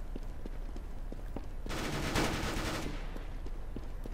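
Gunfire in the video game Counter-Strike: Global Offensive breaks out as a dense, rapid burst lasting about a second, over a steady run of faint regular clicks.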